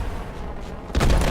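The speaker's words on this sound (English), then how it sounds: "So I'm going to throw a grenade in." A grenade explodes in Call of Duty: Advanced Warfare, a sudden loud, heavy blast that breaks over a low rumble of gunfire and battlefield noise and then rolls on as a sustained roar.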